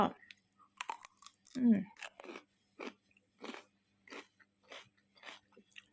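Crunchy chewing and biting of food eaten with steamed rice, close and intermittent bites in an irregular rhythm, with a voice breaking in briefly.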